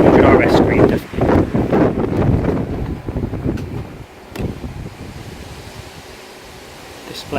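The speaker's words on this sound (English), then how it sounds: "Today's a really blustery day. It's kind of gusting 45 miles an hour winds" Strong gusting wind of around 45 mph buffeting the microphone while riding a BMW S1000XR motorcycle, rough roaring bursts that rise and fall in loud, close gusts.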